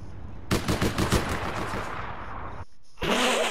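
Gunfire from the video game APB Reloaded: loud rapid-fire bursts rattle for about two seconds, cut to a brief silence, then a second burst starts.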